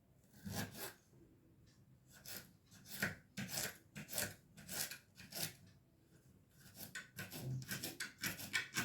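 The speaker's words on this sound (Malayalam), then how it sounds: "ഇനി ഇഞ്ചിനെ ചെറുതാക്കി കട്ട് ചെയ്യാം." Knife cutting peeled ginger into small pieces for mango pickle, a quick run of close, crisp cuts and scraping strokes on a board, coming in irregular bursts with short pauses and no talking.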